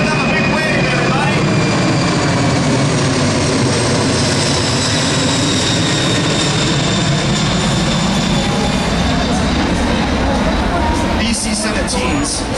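C-17 transport aircraft of the 105th Airlift Wing passing overhead at an airshow, a loud, steady broadband jet roar filling the whole clip without fading, with people talking faintly underneath.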